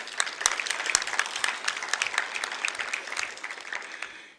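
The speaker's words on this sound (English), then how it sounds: "make sure that you also applaud your state treasurer" An audience applauds a state treasurer at a presentation ceremony, steady dense clapping with sharper individual claps standing out, sustained evenly for several seconds before tapering slightly at the end.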